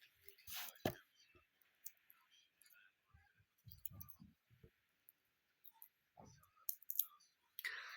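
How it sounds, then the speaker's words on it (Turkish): Crinkly foil wrapper being peeled from a small Ozmo chocolate egg, with close, scattered clicks and crackles in short bursts and a few soft voice sounds between them. "Bu ozma yumurtayı deniyoruz. Hemen açıyorum."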